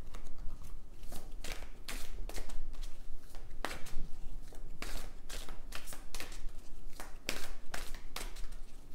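Tarot cards shuffled and drawn by hand, close and crisp: bursts of riffling and rapid card slaps in an irregular rhythm, with no voice over them.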